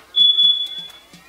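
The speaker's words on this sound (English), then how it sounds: "Excuse the chirping. I'm trying to figure out how to silence my smoke alarm." A high, thin electronic tone sounds once, then short clicky chirps repeat at a steady pace, close by and fairly loud.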